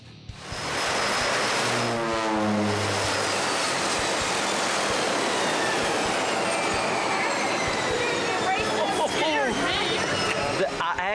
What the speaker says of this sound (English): I actually felt the wind from the prop go across the back of my neck when that plane went over the top of us.